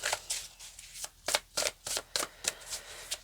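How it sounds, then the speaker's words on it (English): A deck of tarot cards being shuffled by hand, a series of about nine quick, crisp riffling bursts at a fairly even rhythm, close and quiet with brief gaps between them. "they want me to bring out a few tarot cards here"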